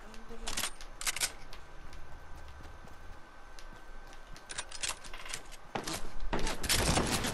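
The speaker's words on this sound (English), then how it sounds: "Where the shots coming from?" Several sharp gunshot bursts in a ten-person shooter game, some single cracks and some clustered volleys at irregular intervals, loud and close with a busier flurry near the end.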